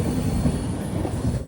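The Kerala Sampark Kranti Express between Thiruvananthapuram and Kannur gives a loud, close rumble of rolling wheels with a rapid clatter, heard briefly before it cuts off.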